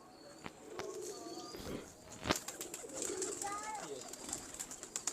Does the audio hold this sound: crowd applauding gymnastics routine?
no